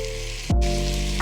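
Chopped vegetables sweating in bacon fat in a pot for a gluten-free clam chowder, a close, continuous sizzle with a short louder burst of hissing partway through, and no talking.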